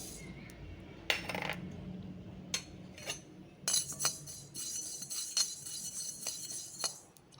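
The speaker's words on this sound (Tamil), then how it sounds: "இப்போ பாருங்கள், எள்ளு நல்லா படபடன்னு பொரியுது" Half a cup of black sesame seeds dry-roasting in a kadai crackle and pop in scattered sharp bursts, with light clinks against the metal pan, fairly quiet and close.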